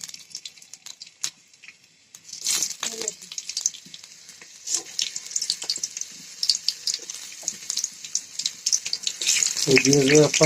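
Pointed gourd pieces fry in hot white oil in a wok, a bright crackling sizzle that starts sparse and grows denser, punctuated by clinks of utensils and a louder burst near the end.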